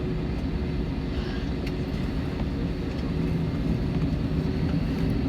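Airplane engines roar steadily on the runway, a dense broadband rumble heard from inside the cabin, constant and fairly loud with no talking.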